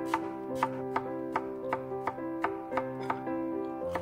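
Ginger, garlic and scallions being chopped on a board, about a dozen crisp knife knocks in an even rhythm over a faint sustained tonal background, no voices.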